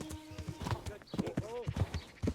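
Horse hooves clip-clop at a quick steady trot during a ride in Kingdom Come Deliverance, soft and mixed with faint tones and game sounds.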